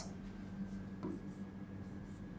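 Faint scratching strokes of writing on a board as a chemical reaction of ferric chloride and sodium hydroxide is written out in a classroom lesson, with a few short, light bursts over a low steady hum.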